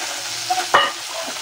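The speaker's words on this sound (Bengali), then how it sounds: "কাঁচকলাটাকে সুন্দর করে ভেজে নিচ্ছি হালকা হালকা করে" Raw green banana pieces fry in a pan with cumin seeds and a little turmeric, giving a steady close sizzle broken by one sharp stirring scrape with the spatula.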